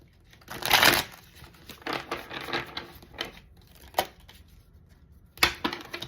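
Cards riffle and flutter in several quick bursts, with soft tapping and shuffling sounds close up between them.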